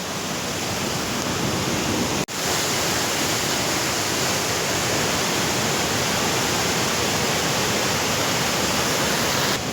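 A rushing mountain river near Mailung waterfall in Rasuwa, Nepal, gives a loud, steady roar that fills the whole span, with only one very brief dip early on and no voices.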